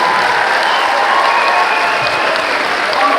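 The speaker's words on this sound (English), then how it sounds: "could we please give them a massive round of applause" A live cabaret audience gives a sustained, dense round of applause for the band's musicians, steady and loud throughout with a faint crowd murmur underneath.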